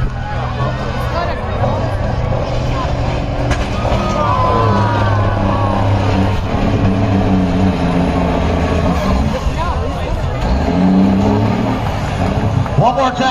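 A blue truck's engine roars as it drives at Hope Brigade Days 2022, a steady motor rumble mixed into loud crowd hubbub, with people talking and cheering throughout.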